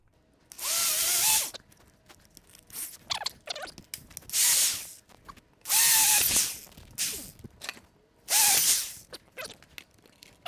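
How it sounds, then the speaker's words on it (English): Power drill boring a 3/8 inch hole while making a candle wax melting pot, in four loud whining bursts of a couple of seconds each, separated by quieter clicks and handling noises. "the first thing I'm going to do is I'm going to drill a 3/8 inch hole"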